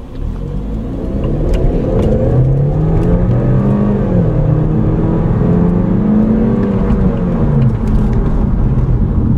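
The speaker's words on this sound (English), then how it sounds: "this turbo engine is very responsive and works great with the 6-speed automatic" A MINI Cooper S Paceman's turbocharged engine, paired with a 6-speed automatic, pulls steadily under acceleration, its pitch climbing and falling through gear changes beneath a loud, continuous interior rumble.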